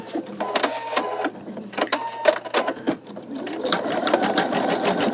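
An embroidery machine stitches teal thread into a sugar skull design, a close rapid tapping with uneven bursts and a low hum.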